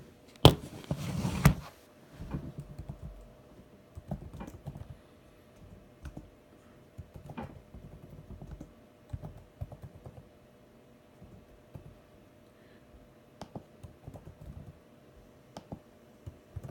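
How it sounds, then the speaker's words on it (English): Someone types on a computer keyboard in a quiet room, producing irregular bursts of crisp, close key clicks separated by short pauses, with a louder rustle at the start. "and then you're going to type in the details"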